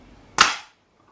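A single sharp crack from a Weihrauch HW110 air rifle, close and loud, with a short hissing decay and quiet before and after.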